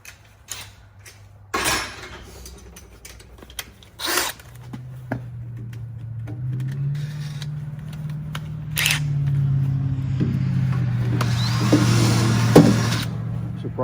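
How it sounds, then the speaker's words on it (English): A power drill bores the last hole through wood for a homemade wooden edge on a tractor bucket snow pusher, its motor whirring into a steady, rising drone after a few sharp clunks and handling knocks. "So now I can finish drilling the last hole."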